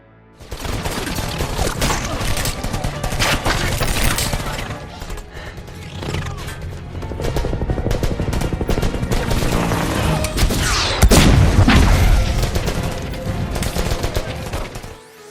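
Gunfire in a ninja film fight scene: dense bursts of rapid shots and crashes, loud and continuous, mixed with music and voices.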